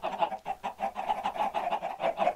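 A huge crowd of chickens in a video game, a dense, continuous clucking chatter with a steady pulsing rhythm, loud and close, no one talking.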